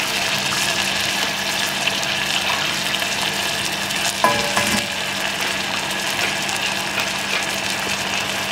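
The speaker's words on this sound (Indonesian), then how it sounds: "lalu kita tumis sebentar." Pounded ingredients sauté in a pan with a loud, continuous close sizzle that barely changes, broken by a short scrape around the middle, and no speech.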